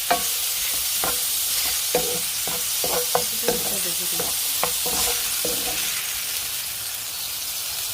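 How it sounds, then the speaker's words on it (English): Egg with black pepper stirred in a hot pan: loud, close sizzling under a regular series of spatula scrapes and taps that fade out, leaving only the hiss of frying. "Make sure to stir your egg, but add the black pepper."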